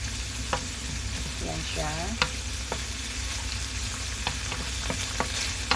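Ham sautéing in a pan gives a steady low sizzle, with scattered clicks and scrapes of a utensil stirring and a brief spoken remark over the cooking.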